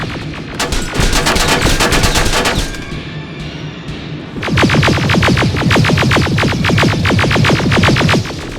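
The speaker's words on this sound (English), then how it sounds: "Open fire!" Rapid automatic gunfire in the Terminator: Resistance video game, loud and close, with a sustained burst, a brief lull, then another long rattling volley of evenly spaced shots.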